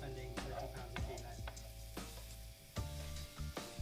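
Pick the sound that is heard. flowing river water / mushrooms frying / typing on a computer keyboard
mushrooms frying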